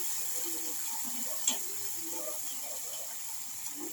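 Water is poured into a pot of potatoes as a steady, soft rushing hiss that continues evenly for a few seconds, close by and without talking.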